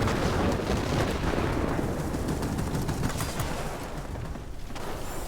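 Aircraft cannon fire from an IL-8 attack plane in World of Warplanes, a dense, steady stream of rapid heavy shots rattling loudly and continuously over a roaring engine, easing slightly near the end.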